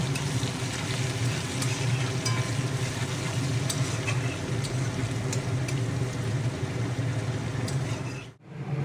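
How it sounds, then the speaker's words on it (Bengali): Half-crushed garlic cloves fry in hot tempering oil for a lentil dal with jute leaves, a loud, continuous close sizzle with repeated stirring scrapes that cuts off abruptly at the end. "একটি মিডিয়াম সাইজের রসুনের কোয়া বেছে আধা থেতো করে এই ফোড়নের মধ্যে দিয়ে ভালোভাবে নেড়ে চেড়ে সোনালি কালার করে ভেজে নেব।"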